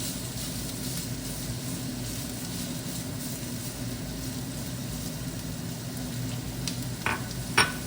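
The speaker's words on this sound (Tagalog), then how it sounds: "Igigisa lang natin siya ng konti" Onion sautés in a pan, a continuous close sizzle with light stirring scrapes near the end, steady and unbroken throughout.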